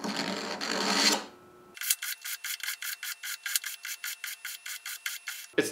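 A knife blade scraping through the carbide slot of a cheap handheld sharpener, a rapid regular series of about sixteen short rasping strokes, close and clear, after a brief rougher scrape.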